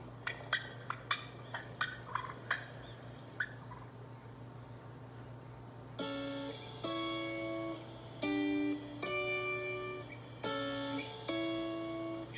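Turkey calls made on a wooden turkey box call: a few sharp scratchy clucks, then a loud series of drawn-out, rasping yelps with clear tonal overtones, close and alone with no talk.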